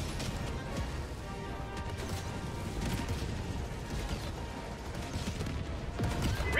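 Mortar sentry in Helldivers 2 firing amid dense battle noise, a steady roar of blasts and impacts with repeated booming thuds throughout, no voices.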